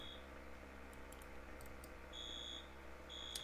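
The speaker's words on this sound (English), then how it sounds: "Can we get firefighters to stop the fire alarm again?" In the Roblox game ER:LC, a fire alarm at a bank sounds faintly as high electronic beeping tones in two longer pulses beneath a dense, steady game background roar.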